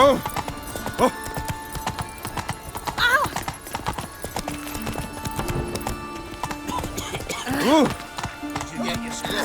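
Roach, Geralt's horse in The Witcher 3, gallops with loud, steady clip-clopping hoofbeats close by and lets out a couple of whinnies, while voices talk over the action.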